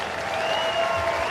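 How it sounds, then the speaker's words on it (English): A baseball crowd at Progressive Field in Cleveland applauds loudly and steadily as a pitcher leaves the game, a dense continuous roar of clapping and cheering throughout. "this crowd will let you know what they think of the effort from Parker Messick"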